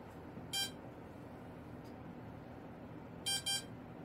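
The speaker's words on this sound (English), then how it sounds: "As soon as you hear those two fast beeps" An RC truck's electronic speed controller beeping after its battery is plugged in on an Arrows RC Bigfoot: one short high beep, then a quick pair of fast beeps near the end over faint background hiss.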